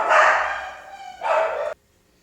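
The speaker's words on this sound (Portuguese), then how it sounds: "eu parei porque meus cachorros começaram a latir" Pet dogs bark indoors at home: two fairly loud, rough bursts, a longer one and then a shorter one, before sudden silence.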